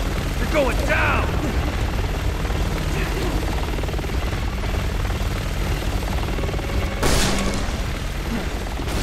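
A helicopter in the video game Resident Evil 6 thrums with a steady rotor roar throughout a cutscene, joined by brief bursts of gunfire and a sharp impact, with character voices speaking over it.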